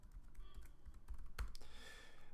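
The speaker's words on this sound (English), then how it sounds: "Also we should type enable password." Keys clatter on a computer keyboard as a password is typed: a short, quiet run of soft clicks close by, with one sharper tap near the middle.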